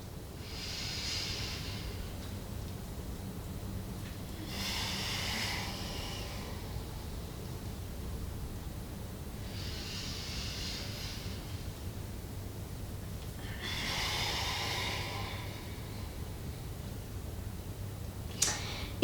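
Slow, deep yoga breaths, alternating long airy inhales and exhales in a steady rhythm of about four cycles, close and soft in a quiet room.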